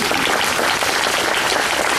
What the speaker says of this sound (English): I'd like to give you another round of applause.